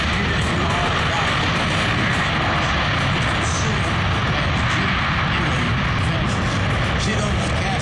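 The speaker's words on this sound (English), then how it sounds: "Cascade reversers now open, emitting a lot of forward pressure to bring that C-17 to a stop" A C-17 lands at Lakeland Linder International Airport during Sun n Fun with its cascade thrust reversers open, making a loud, steady, broadband roar that fills the scene while a voice talks over it.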